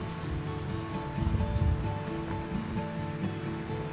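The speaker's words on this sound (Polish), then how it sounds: "Że woda zasuwa równo tutaj przez strumyk." Water rushing steadily down a hillside stream on a winter walk in the Peak District, a continuous close wash with a brief louder surge partway through.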